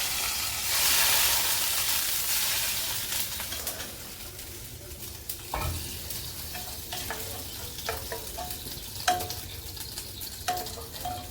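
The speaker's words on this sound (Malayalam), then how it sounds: "നമുക്കിത് കറിയിലേക്ക് ഇട്ട് കൊടുക്കാം." Ingredients tipped into a pot of horse gram curry, a loud sizzling splash at first that settles into softer simmering and frying, with a few light clinks and taps from a spoon.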